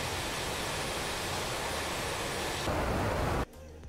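A steady, loud roar of an aircraft taxiing in the DCS World combat flight simulator, broadband jet noise that swells slightly before cutting to a quieter hum near the end, with no talk.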